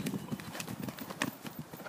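Hooves of a ridden horse clip-clop in a steady rhythm during a riding lesson, moderately close, with faint background noise and no talk.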